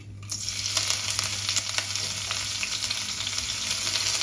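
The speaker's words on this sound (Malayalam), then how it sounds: "ഇനി അതിലേക്ക് രണ്ട് പച്ചമുളക് ചതച്ചത് ഒരു കഷ്ണം ഇഞ്ചി ചതച്ചത് പിന്നെ കുറച്ച് കറിവേപ്പില ഒരു വറ്റൽമുളക് ഇട്ട് കൊടുക്കാം" Crushed green chillies, crushed ginger, curry leaves and a dried red chilli fry in hot oil for a Gujarati-style green gram curry, giving a steady, dense, close sizzle that starts abruptly and continues unbroken, with no voices.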